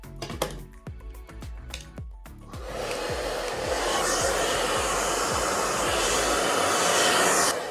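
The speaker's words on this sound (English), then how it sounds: "I don't just use any hair dryer, and the reason is I need like a 2000 watt" A Rusk 2000 watt hair dryer starts with clicks and brush handling, then roars steadily and loudly up close for several seconds.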